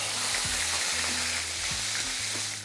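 Onion paste sizzles loudly as it is stirred into frying food in a pan, a dense continuous hiss with a few scraping ladle strokes, no voices.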